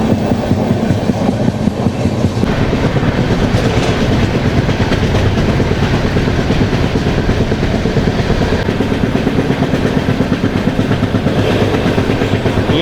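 Tirupati to Visakhapatnam AC double decker train running steadily, with continuous loud rail rumble and rhythmic wheel clatter throughout, no talking.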